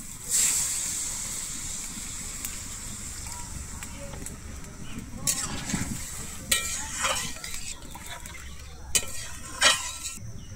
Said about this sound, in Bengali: আমি এরপর এখানে জল দিয়ে দিচ্ছি